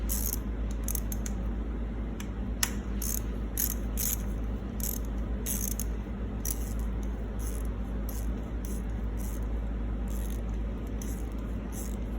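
Ratchet wrench loosening the pinch bolts on a Kawasaki KX 125 motocross bike, a string of quick clicking bursts repeating steadily over a low background hum, with no talking.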